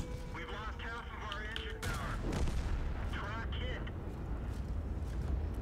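A tank's main gun firing in World of Tanks from a T110E3 or T110E4 heavy tank, a heavy boom over rumbling engine noise, with a person talking through the clip.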